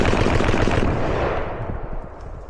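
Rapid gunfire from a magazine during clay shooting rings out in a loud, dense burst of close shots that trails off into fading echo.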